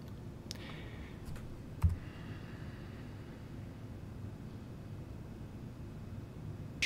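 A few faint, sharp clicks from a computer mouse selecting a drop-down button, scattered over a quiet background hum with one slightly louder click partway through.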